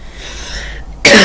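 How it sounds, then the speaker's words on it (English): A single harsh cough bursts out loud and close at the end, after a stretch of low background hiss, from a person with a nasty cough. "My nasty cough doing all this talking and yelling"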